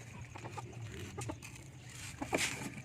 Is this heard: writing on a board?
no